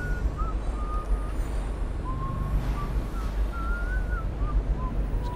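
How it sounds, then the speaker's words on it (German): A character in the video game Dishonored whistles a slow, wandering tune of thin, sustained notes at moderate distance, accompanied by a continuous windy ambient rumble. "Der pfeift doch."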